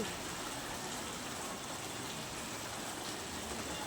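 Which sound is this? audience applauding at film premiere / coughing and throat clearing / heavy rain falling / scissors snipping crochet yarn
heavy rain falling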